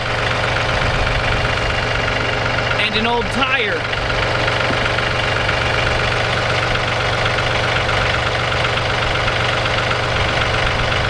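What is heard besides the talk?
tractor engine running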